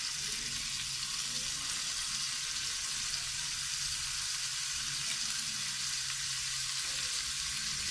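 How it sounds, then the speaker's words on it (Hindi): Spicy chicken pieces sizzle and fry steadily in a pan over a low flame, a continuous close hiss with faint clinks and stirring, no talking. "बहुत ही आसानी के साथ और बड़ी जल्दी ये फ्राई हो जाएंगे"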